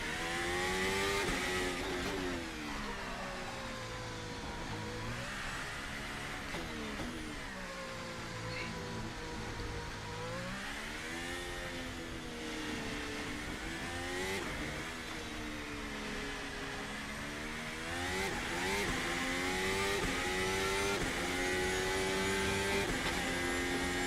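A VRC Formula Alpha sim race car held at open throttle in third gear, its engine note rising and falling in steady revving sweeps throughout, loud and continuous with a faint voice underneath.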